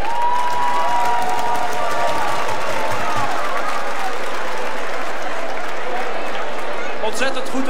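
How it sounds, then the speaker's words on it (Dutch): Loud, sustained applause with cheering from a large crowd at a flower parade award ceremony, honoring the children's jury, with some shouts and voices mixed into the dense clapping. "Mag ik een heel groot applaus voor de kinderen van de kinderjury."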